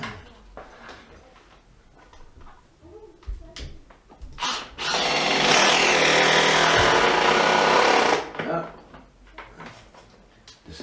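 A power driver sinks a KTX screw into a decking board for a trough planter, one steady high whine lasting about three seconds, close and loud. Lighter knocks and handling sounds come before and after it, and there is no talk.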